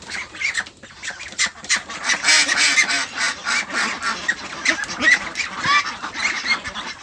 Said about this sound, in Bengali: এখন আমরা এটা হাঁসকে দিব দেখি হাঁস কীরকমের খাচ্ছে মেডিসিনটা